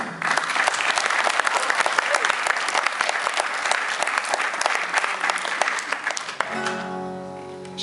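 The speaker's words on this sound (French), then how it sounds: "On aimerait que vous applaudissiez bien fort les 4 autres groupes qui étaient là avant" Concert crowd at a live rock show in Nice clapping hard and fast for several seconds, then the applause fades as sustained instrument tones ring out near the end.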